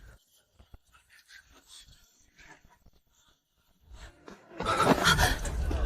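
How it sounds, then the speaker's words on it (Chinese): A dog from a butcher shop at the end of a street makes a loud burst of panting, whimpering noises near the end, after a quiet stretch of small scattered sounds. "这是街尾肉铺的狗，老头子替你送回去。"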